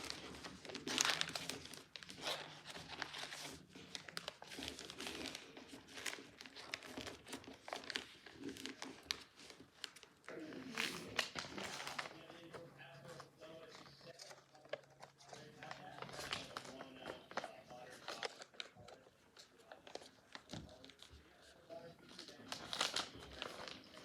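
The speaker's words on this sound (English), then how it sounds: "Now flip it back over, fold the sides to the center." Paper being folded into an airplane, with crinkling and creasing rustles coming in irregular bursts throughout, close by, under steady instructional talk.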